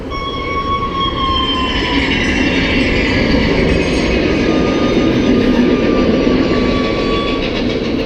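Loud thunder sound effect inside a Disneyland Paris attraction: a dense, continuous roaring rumble that fills the whole clip, with thin whining tones drifting above it.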